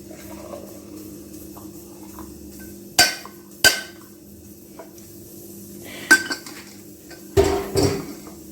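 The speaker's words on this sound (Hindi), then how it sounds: "मैं अभी चाय छान रही थी और ठक ठक की आवाज कर रही थी ना" A metal tea strainer tapped against a cup or pot while straining tea: four or five sharp knocks in two pairs, loud and close over a faint background hum.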